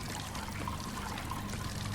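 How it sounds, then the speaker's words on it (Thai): Tap water runs steadily in the horror game The Scourge, a continuous soft pouring trickle held at an even, fairly quiet level for the whole stretch, with no voices over it. "อ๋อน้ำไหล เปิดน้ำทำไม"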